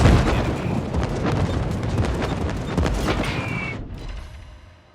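Aircraft rockets launched in a naval warfare video game make a dense, continuous roaring rush of fire and bursts that holds steady for several seconds, then fades out, with no talking.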